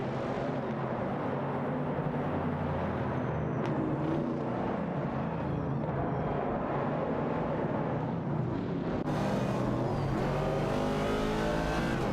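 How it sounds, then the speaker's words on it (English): Race cars, including a Chevrolet Camaro 70 and a Ford Falcon, roar continuously in a racing video game, engines droning and shifting pitch as they duel, with a sharp change in engine note near the end. "Kazushuk and Okayoki 3 are locked in a tight duel for the 19th position, with the Chevrolet Camaro 70 and Ford Falcon respectively"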